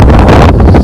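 Strong wind blows outdoors in the countryside at Kollangode, Palakkad, and buffets the microphone with a loud, steady rushing roar. It carries on without a break and no one speaks.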